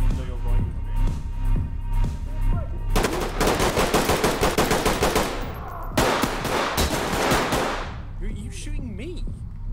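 Rapid bursts of automatic gunfire in the tactical police shooter Ready or Not, two dense volleys of close, loud shots separated by a brief pause, with players talking over the firing.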